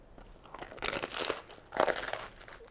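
A big bite taken into a crusty baguette sandwich filled with mortadella and aubergine, two loud crunching, crackling bursts of crust close to the mic, followed by chewing.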